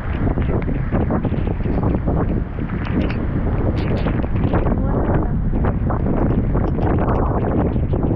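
Typhoon Uwan wind and rain outdoors: a loud, steady broadband roar that stays unbroken from start to finish, with no voices.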